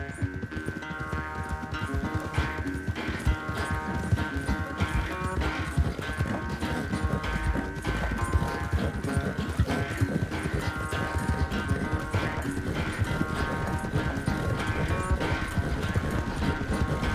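Horse hooves galloping in Red Dead Redemption II: a steady, rapid clip-clop that runs the whole way through beneath a continuous musical score.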